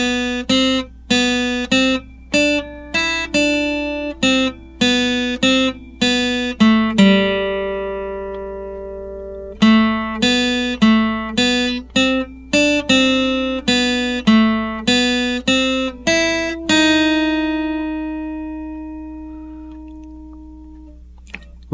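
The bridge melody of a song is picked as clear single notes on an acoustic guitar. The line moves in a steady, bouncy rhythm, and a few notes are held and left to ring out.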